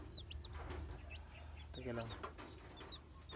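Soft clucking from a hen and high peeping chicks close by, with a person speaking briefly over them.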